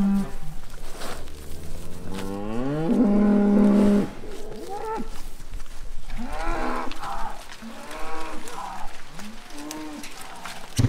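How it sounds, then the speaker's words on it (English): Cows moo repeatedly, several long low calls overlapping and close by, with a steady outdoor background underneath, as a herd is brought in for TB testing. "Here are the next lot of cows."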